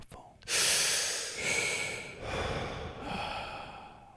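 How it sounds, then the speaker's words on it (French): Slow, deep Wim Hof method breathing: long drawn breaths in and out, four heavy airy swells close to the microphone, steady and unhurried, with no talking. "contrôlez votre respiration lente et profonde"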